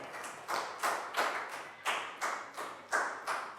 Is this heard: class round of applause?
yes